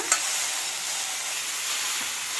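Okra for bendekayi sambar fries in a pan with a steady, close hissing sizzle, opening with a small sharp tick and otherwise holding an even, unbroken texture with no voices.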